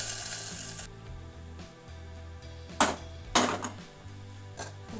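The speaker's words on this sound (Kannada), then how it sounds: "ಹಾಕ್ಕೊಂಡಿರೋ ಒಗ್ಗರಣೆನ ಇದಕ್ಕೆ ಹಾಕ್ಕೊಳ್ತಾ ಇದ್ದೀನಿ." Hot tempering of cumin and curry leaves sizzles as it is poured into a dish of pundi palya, a broad hissing crackle with a couple of sharp louder bursts, close and alone.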